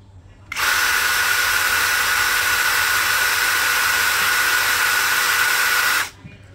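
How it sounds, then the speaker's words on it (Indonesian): A Doliz BD636 cordless brushless drill driver running in drilling mode at speed 1: a steady, loud, high-pitched whine that starts abruptly, holds evenly for about five seconds, then cuts off. "Kita akan uji di mode drilling. Percepatan nomor 1 terlebih dahulu."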